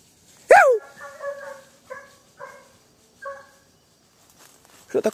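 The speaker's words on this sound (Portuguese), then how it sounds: "Olha o cachorro correndo, galera." A dog out in the woods barks once loudly, then gives several shorter yips and whimpering barks at a moderate distance, with a brief human shout at the end.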